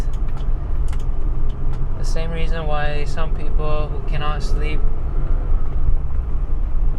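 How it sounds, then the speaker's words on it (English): A BMW E28 520i driving along a road, its engine and tyre noise forming a steady, loud low rumble from inside the cabin, with someone speaking over it for a few seconds midway. "this car is like listening to white noise"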